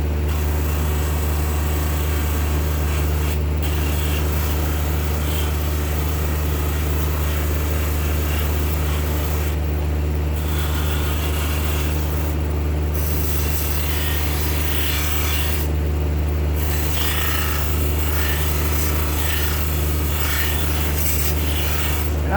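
A rasp or file scrapes old finish off a wooden gun stock in a steady run of close, gritty rubbing strokes, with a few short pauses and a constant low hum underneath.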